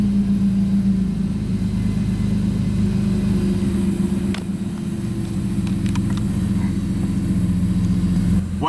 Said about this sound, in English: Idle went down a little bit, came back up. It is hunting a little bit.